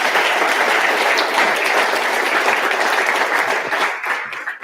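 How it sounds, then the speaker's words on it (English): Audience at a 2019 federal election all-candidates forum breaks into sustained applause, a dense wash of clapping that holds steady for several seconds and tapers off at the end. "join me in a round of applause"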